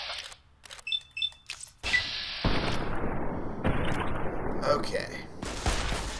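Gunfire in the Fallout: New Vegas video game: a few sharp shots and clicks, then a sustained burst of rumbling blasts and booms, loud and close, with a brief spoken word from a man.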